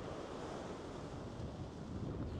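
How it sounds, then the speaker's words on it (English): Rough sea surges against the Devon coast, a dense, continuous roar of breaking surf mixed with wind buffeting the microphone, loud and close with no voices. "Mate, there's like mega sea today."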